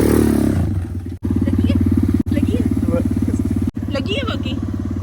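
Motorcycle engine running steadily close by while being ridden, a strong continuous low hum with brief cutouts, people talking over it throughout.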